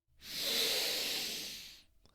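A single long, close breath, a soft airy hiss that rises quickly, holds for about a second and a half, then fades away.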